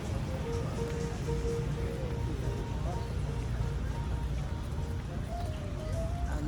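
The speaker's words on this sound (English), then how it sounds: "It's raining, y'all." A soft, constant patter of rain in Puerto Rico blends with muffled outdoor background noise and faint distant voices near food trucks, steady throughout without clear breaks.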